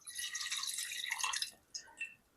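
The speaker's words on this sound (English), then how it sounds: "first we're going to add our 1 cup of vegetable stock" Vegetable stock poured into a cooking pot for cornmeal, a steady splashing liquid pour for about a second and a half, then a few softer drips, with no talking.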